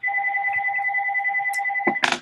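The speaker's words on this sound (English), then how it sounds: "Sorry, this phone is annoying." A phone rings with a steady, loud two-tone electronic trill that holds for nearly two seconds, then breaks off into a few sharp clunks as the handset is picked up.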